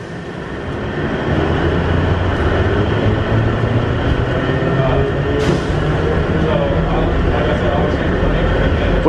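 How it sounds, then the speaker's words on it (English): An airport terminal shuttle train in Seattle rolls along its track toward Terminal C, a loud, continuous rumble and rail hum that holds steady throughout, with brief metallic clanks. "Please hold on. The train is departing for Terminal C."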